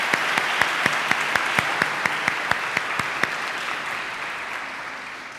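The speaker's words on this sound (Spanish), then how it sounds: "Un aplauso." Congregation applause at a Spanish-language Mass, a wash of clapping with a few distinct nearby claps standing out in rhythm, gradually fading toward the end.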